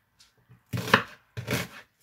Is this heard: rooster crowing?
no